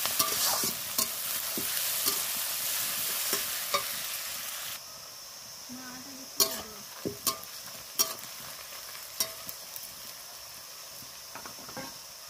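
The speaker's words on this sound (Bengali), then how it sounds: "আমি পেঁয়াজটা ভালো করে লাল করে ভেজে নেব" Onions frying with two bay leaves in hot oil in a wok-style pan, a constant sizzle broken by repeated sharp spatula scrapes and knocks, louder at first then quieter.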